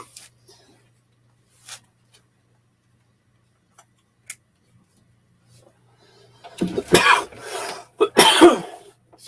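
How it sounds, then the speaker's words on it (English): A person has a coughing spell: after scattered faint ticks and small noises, a cluster of harsh, loud coughs comes in rapid bursts near the end, close to the microphone, with some throat clearing between them. "Cough spell."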